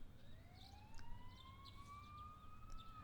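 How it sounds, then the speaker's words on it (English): Distant emergency sirens in the video game Persona 4 Golden, rising wails sweeping slowly upward and holding, faint and far away over a low rumble, with no talking. "since we can hear sirens in the distance, somebody probably died"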